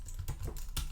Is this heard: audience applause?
no